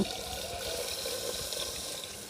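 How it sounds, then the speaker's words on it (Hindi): Water pours steadily into a pot of fried beef for nihari, a soft continuous rushing splash heard up close for a couple of seconds without speech. "तो अब मैं इसमें डाल देती हूँ पानी।"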